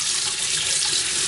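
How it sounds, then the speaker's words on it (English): Tap water runs from a faucet onto a spoon being washed at a sink, a close, steady hissing splash with no talk. "The spoon, the water hitting it."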